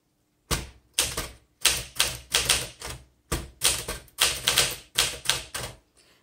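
Typing on a 1964 Smith Corona Classic portable manual typewriter: about ten bursts of crisp mechanical key strikes and clacks, close and clear, in an uneven rhythm with short gaps between bursts.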